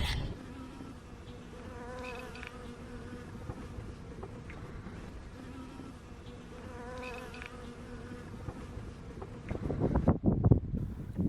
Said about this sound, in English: sure enough there's some bees